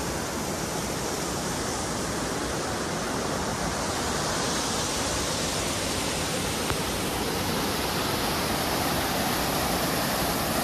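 A loud, unbroken roar of rushing water from Sivakona Waterfall heard up close, steady from start to finish with no voices.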